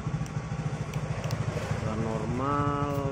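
A freshly serviced motorcycle engine idles smoothly nearby with a steady, even pulsing beat, and a voice comes in toward the end.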